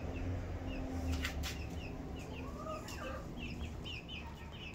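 A Mapuche hen clucks softly alongside her three chicks, whose thin high peeps chirp repeatedly over a quiet, close outdoor backdrop.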